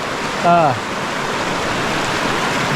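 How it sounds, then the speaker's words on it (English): A small stream in Idaho rushing steadily nearby, a constant broadband wash of flowing water, briefly overlapped by a short bird call near the start. "definitely got a stream to fish"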